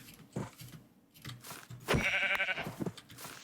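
Sheep in Minecraft Hardcore 1.17 give a few short bleats, loud and close, scattered among soft footsteps and crunching block sounds, with one longer wavering bleat near the middle.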